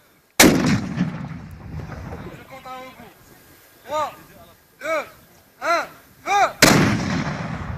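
Artillery pieces fire during a Royal Armed Forces officer cadet training exercise: two loud, booming blasts with long rumbling decay bracket a run of several short, tonal whistle-like bursts, with speech likely present.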